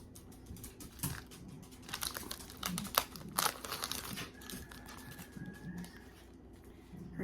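Thin plastic covering on a Blythe doll, Heavenly Strawberry edition, crinkles during unboxing in a steady run of close, crisp rustles and ticks, with a faint tone drifting through.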